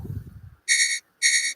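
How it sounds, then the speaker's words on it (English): Alert tone from a futures trading platform during a live US-session trading stream: two identical bright electronic beeps, each about a third of a second, separated by a short gap, heard clearly on their own after brief low talk fades out. "yeah, that's the sound of the alert"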